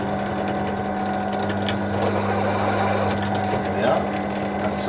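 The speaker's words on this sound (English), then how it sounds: "just give myself a little centre drill mark in here for the drill to follow" A Warco lathe drives a centre drill into a centre-punch mark, giving a steady mechanical hum with a low motor drone and light intermittent ticking, while someone speaks over it.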